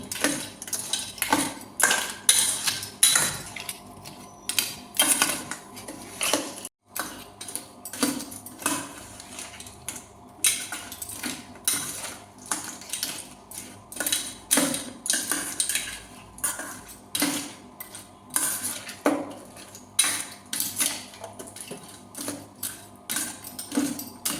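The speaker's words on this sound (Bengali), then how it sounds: "মশলাটা মাখিয়ে নেব। কাঁকড়ার সাথে ভালো করে মাখিয়ে নেব।" Crab pieces are worked by hand with spice paste in a metal bowl, giving irregular squelching, rubbing and clinking bursts up close that start and stop repeatedly, with no talking.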